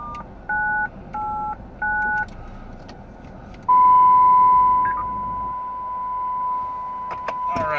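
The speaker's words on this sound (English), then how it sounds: "I'm gonna do a punch in the codes to set out a 1K tone on my system" DTMF codes punched into a radio system sound as three short two-tone beeps in even rhythm, followed by a long steady 1 kHz tone over faint car-interior rumble; clear and close, with no talk.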